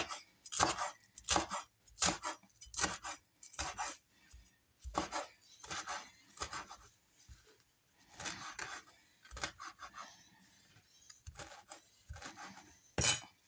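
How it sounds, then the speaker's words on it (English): A knife rough-chops fresh parsley on a board in quick, rhythmic bursts of close, crisp strokes with short pauses between runs, and no talking. "Take some of this fresh parsley, just like this, and I'm going to give it a little bit of a rough chop, very rough chop"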